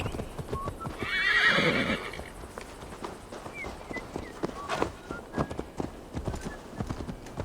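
Horse hooves clip-clopping at a gallop with a loud whinny early on, set in the Assassin's Creed Valhalla video game, steady hoofbeats continuing throughout.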